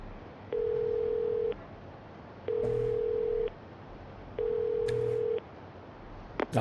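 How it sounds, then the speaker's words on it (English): A payphone in the game Yakuza 0 sounds three even electronic tones, each about a second long, separated by short pauses, with faint clicks between them. "They use a payphone. They call it a strange number."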